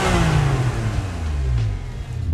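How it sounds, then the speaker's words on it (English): A Porsche 911 (996) flat-six revs loudly through a freshly repaired exhaust, a sustained rising and falling engine roar close to the microphone with no talking. "So we just had the exhaust fixed. It didn't sound like that before."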